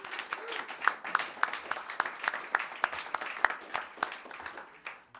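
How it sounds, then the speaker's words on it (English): A concert audience applauds with scattered, uneven claps that rise and dip steadily throughout, fairly close and with no talking over it. "So big round of applause for Big O Tires."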